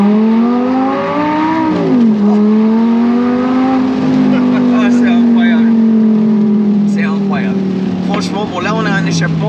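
An Audi R8 V10 with an aftermarket exhaust holds a steady, loud engine drone that sweeps up and down in pitch, with someone speaking French over it throughout.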